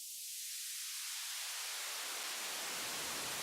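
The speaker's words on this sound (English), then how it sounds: "a high pass with white noise." Filtered white noise whose dull low end steadily thins away as a rising high-pass cutoff strips it, leaving a bright, airy hiss, steady and alone.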